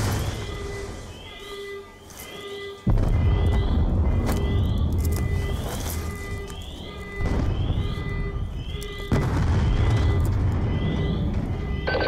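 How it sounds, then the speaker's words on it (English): Explosions inside a facility in the shooter game Call of Duty Black Ops 2, three heavy booming blasts spaced a few seconds apart over a continuous loud rumble, with sharp crackling impacts layered throughout. "We're monitoring multiple explosions across the facility."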